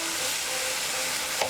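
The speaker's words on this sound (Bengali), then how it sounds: "লো টু মিডিয়াম ফ্লেমে আমি এটাকে মিনিট খানেক কষে নেব" Spice masala stir-fries in a pan over low to medium flame for a moong dal with fish heads, giving a steady close sizzle with a light scrape of stirring near the end.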